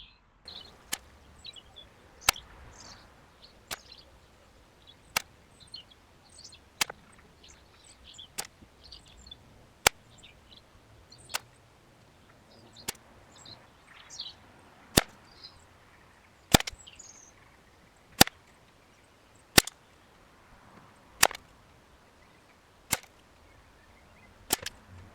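An air rifle fires JTS Dead Center pellets in a long series of about sixteen sharp, isolated cracks spaced a second or two apart, with quiet handling noise between shots.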